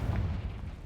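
A Confringo blasting spell goes off in Hogwarts Legacy, giving a short, heavy low boom that rumbles briefly at close range with no voices over it.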